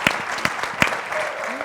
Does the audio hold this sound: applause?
yes